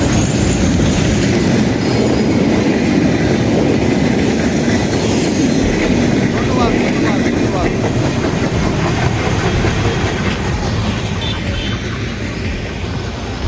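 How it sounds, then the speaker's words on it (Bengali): A train pulls into Hili station on British-era tracks, its wheels clattering and squealing loudly and close for the whole stretch, with brief speech partly over the din. "ইতিমধ্যেই কিন্তু ট্রেন এসে গেছে। এই যে ট্রেন,"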